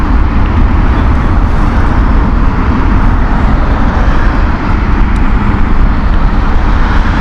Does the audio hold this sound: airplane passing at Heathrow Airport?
yes